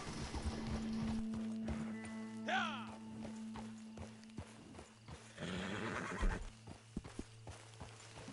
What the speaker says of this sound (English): Whoa, angry horsey.